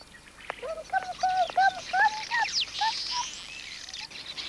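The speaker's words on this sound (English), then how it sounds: "Greedy ducks." Ducks at a wildlife sanctuary quacking repeatedly as they feed on their daily ration, a close, busy run of short calls over faint background noise.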